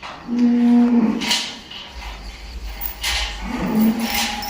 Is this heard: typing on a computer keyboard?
no